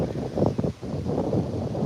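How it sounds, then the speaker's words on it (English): Gusty wind in Kampot, Cambodia, buffeting the microphone, a low rumbling roar that rises and falls, briefly dropping out before surging back. "it's so windy right now"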